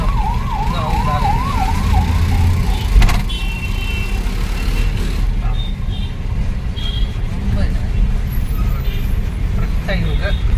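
A wailing ambulance siren rises and falls through heavy town traffic on a motorcycle ride from Chittoor to Chintapati, heard under steady engine and road noise before fading after a few seconds, with a loud bang near the middle.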